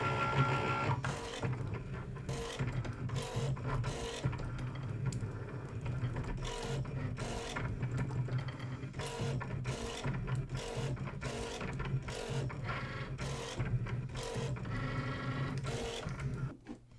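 A Cricut cutting machine runs a foil transfer pass, its motor and carriage giving a steady mechanical whir with regular rhythmic pulses and clicks, close and continuous for the whole stretch with no talk.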